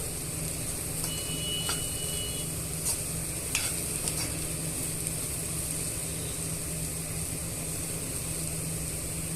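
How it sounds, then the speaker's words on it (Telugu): Spice masala mixture being stirred in a pan, with steady scraping strokes over a continuous sizzling hiss and a few sharper utensil clinks. "ఇవన్నీ కూడా బాగా మిక్స్ చేసుకోవాలండి ఇలా అన్నీ కలుపుతూ మిక్స్ చేసుకోవాలి"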